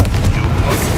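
A magic spell explosion from the Hogwarts Legacy game lands as a loud, low, rumbling boom that fills the whole short moment with dense blast noise.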